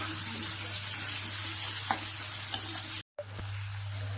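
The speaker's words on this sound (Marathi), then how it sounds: "आता मी त्याच्यामध्ये कांदे टाकून देते आणि कढीपत्ता पण लगेच टाकून देते आणि छान पारदर्शक होईपर्यंत ह्याला परतून देते" Onions and curry leaves sautéing in a pan for dosa filling, a steady hissing sizzle with a constant hum underneath and a few faint stirring clicks, briefly cut off near the end.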